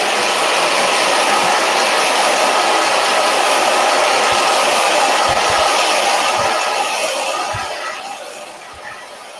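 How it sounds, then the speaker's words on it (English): A handheld hair dryer blows loud and steady at close range for most of the stretch, then its roar drops off and fades toward the end. "A little more hair dryer time."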